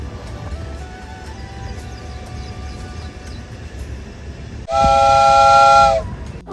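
A loud steam-style train whistle blows for over a second near the end, over steady rumbling railway station noise, with no talking.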